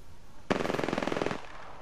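Rapid burst of automatic gunfire in a video game, loud and close, a steady rattling volley of about a second that stops abruptly, with no talk over it.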